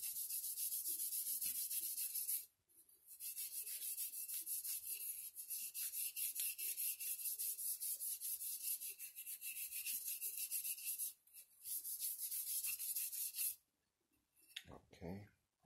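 Rapid scratchy strokes of sanding wood rub back and forth, close and steady, pausing briefly a few times before stopping near the end.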